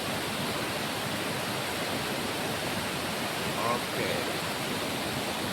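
Ravana Falls in Sri Lanka, water sliding down from high above, pours with a steady, broadband hiss, and a brief voice is heard faintly over the roar.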